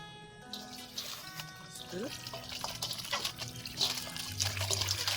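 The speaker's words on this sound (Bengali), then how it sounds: "চিকেনটাকে আমরা এখন ভালো করে ধুয়ে নেব" Raw chicken pieces for chicken korma being washed in water, with splashing and trickling running steadily through the clip at close range, interrupted by soft handling noises.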